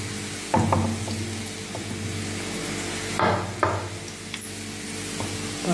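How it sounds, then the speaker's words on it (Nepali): Fermented buried radish pickle is mixed in a pot, with a few sharp scraping and clacking strokes of a spoon against the pot, spaced apart over a low, steady background hum. "अब म चाहिँ मेरो भाँडामा मोल्छु"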